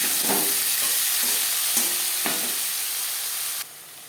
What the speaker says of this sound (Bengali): কড়াইতে আবারও তেল দিয়েছি দিয়ে দেবো পেঁয়াজ টমেটো